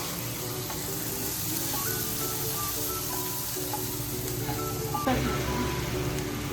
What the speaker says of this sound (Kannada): ಫ್ರೈ ಆದಮೇಲೆ ಈರುಳ್ಳಿ ಸ್ವಲ್ಪ ಗೋಲ್ಡನ್ ಕಲರ್ ಬರೋವರೆಗೂ ಫ್ರೈ ಮಾಡ್ಕೋಬೇಕು